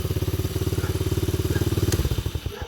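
Chinese ATV engine fitted with an aftermarket carburetor, a throaty, rapid, even exhaust pulse running steadily up close, then easing off and sputtering near the end, with no talk.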